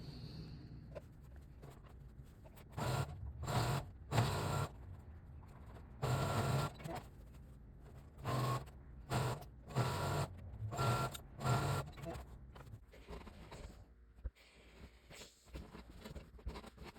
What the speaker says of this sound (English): We're going to take it over to the sewing machine, zip up the sides